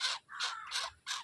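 A crow caws four times in quick succession, loud and close, harsh nasal calls spaced by brief gaps and heard alone.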